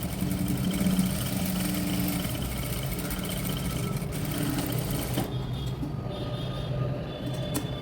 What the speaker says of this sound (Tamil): நான் 2 தையல் போட்டு எடுத்துக்கிறேன்